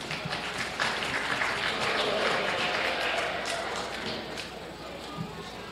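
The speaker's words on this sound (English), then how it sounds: "please give these exhibitors a round of applause for their 6 middleweight lambs." Applause at a county fair lamb and sheep show for exhibitors of middleweight lambs, a steady dense patter of clapping held at an even level throughout, with faint voices mixed underneath.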